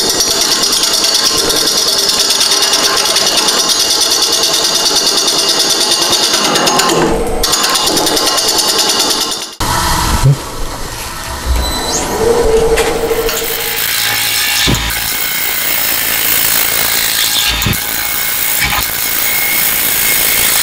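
A wood lathe roughing a natural-edge hollow form at about 500 RPM, the gouge scraping and rubbing loudly against the spinning wood with a steady rattle, briefly interrupted midway before cutting resumes with occasional knocks.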